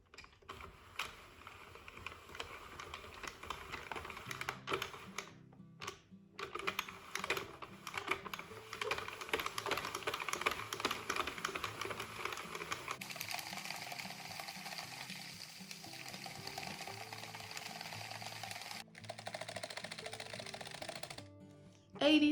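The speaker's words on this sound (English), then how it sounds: "we're gonna start cranking 86 rows in total" A circular knitting machine cranked round and round through rows of a bow headband, giving a steady mechanical clatter of gears and ratcheting needles that runs nearly continuously, with a couple of brief pauses.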